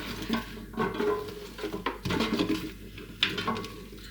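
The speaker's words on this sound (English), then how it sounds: "And then give it all a mix with your hands." Sausages and peppers tossed with olive oil by hand in a bowl before air frying, giving soft wet squelching, stirring and light clinks of dishware, fairly close and continuous with no talk.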